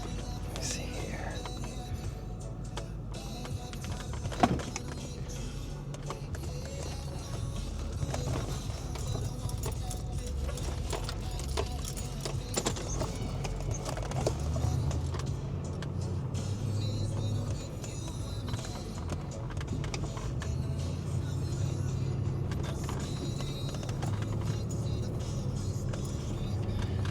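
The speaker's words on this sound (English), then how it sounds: "you get to hear all the creaks and rattles that happen in these cars" Cabin of a BMW E53 on the road: steady road and engine rumble fills the space, broken by scattered clicks, knocks and rattling taps from the interior, with a sharper knock early on.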